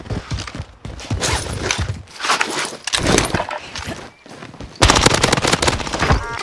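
Rapid automatic gunfire in the Iron Trials battle-royale video game, loud bursts of machine-gun fire in several clusters with brief gaps, ending in a sustained dense volley.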